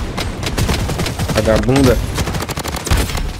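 Bursts of rapid gunfire in the video game Blood Strike rattle through the clip, mixed with a person's excited talking and a short electronic tone in the middle.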